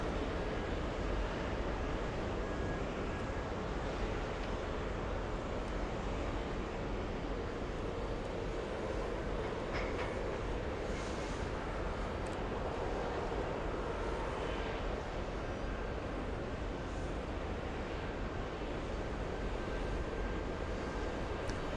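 A Frontier airliner takes off from runway 22 right, a constant loud roar of jet engines heard from a distance, steady and broad with no voices over it.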